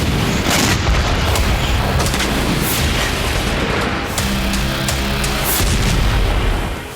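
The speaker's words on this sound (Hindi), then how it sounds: "कुर्स्क की सड़कों पर दौड़ते यूक्रेनी सैन्य वाहनों का स्वागत कामिकाजे ड्रोन विस्फोट से किया जा रहा है।" Kamikaze drones explode against Ukrainian military vehicles on the roads of Kursk, producing a loud, dense, continuous barrage of booms and sharp cracking impacts that runs throughout with no talk.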